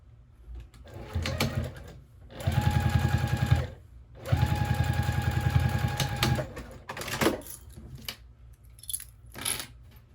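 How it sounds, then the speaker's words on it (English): A sewing machine top stitches a fabric triangle pouch in two loud, rapid bursts of needle chatter, separated by pauses filled with lighter handling clicks and rustles. "Fold that back and top stitch."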